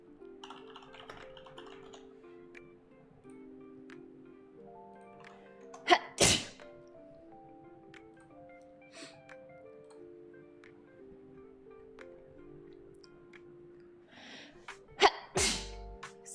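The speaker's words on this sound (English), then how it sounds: "I've been sneezing a lot." Two sharp, loud sneezes burst out several seconds apart, at the start and near the end, over soft ticking and keyboard-like tapping in a quiet room.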